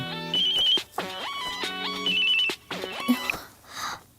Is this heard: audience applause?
no